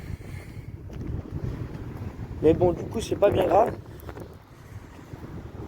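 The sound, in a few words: wind blowing outdoors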